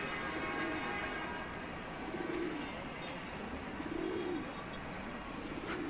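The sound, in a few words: pigeons cooing, Tanta pigeons for sale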